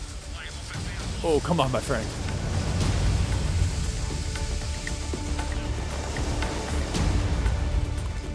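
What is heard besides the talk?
hail hammering on sailing boat in storm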